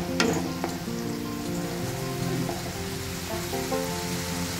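Spice masala sautés in oil for a Bengali rohu-in-yogurt curry, a dense, steady sizzle with faint crackles and a few light clinks from stirring, close and continuous.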